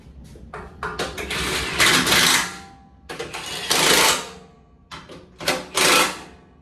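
Bilt Hard Weize tire changer running on shop air, giving three loud bursts of harsh rattling clatter, each about a second long, separated by short pauses.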